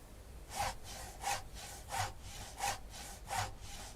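A hand saw cuts wood in the survival game The Last Plague: Blight, six even back-and-forth rasping strokes in a steady rhythm, close and clear with no voices.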